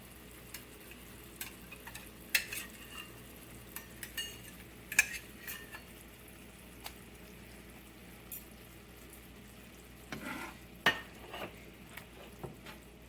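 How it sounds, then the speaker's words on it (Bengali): Rejala broth with hilsa fish simmers quietly in a pot, a faint bubbling bed broken by sparse clinks and light stirring taps that come close and soft. No voices are heard. "ঝোলটা ভালোই ফুটে উঠেছে।"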